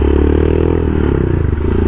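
A custom-built Royal Enfield Himalayan motorcycle engine runs close by with a loud, throbbing thump and a slight rise in pitch. No voices are heard.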